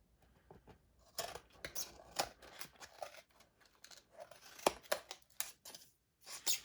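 Scissors snip through cardstock and paper for a Paper Pumpkin craft kit, a series of close, crisp cuts in uneven bursts with short pauses between them, fairly quiet and with no talking.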